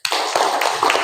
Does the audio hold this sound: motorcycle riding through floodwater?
no